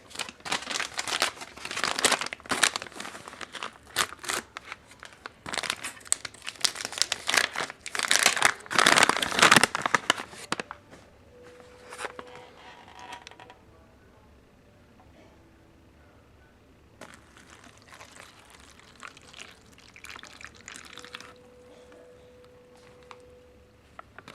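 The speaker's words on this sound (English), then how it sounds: "Cocoa beverage powder. Says to fill it up to the line, shake it up." An MRE cocoa beverage powder pouch from a 2013 US cold-weather ration crinkles loudly up close as it is filled and shaken, then quieter rustles and brief gurgles follow.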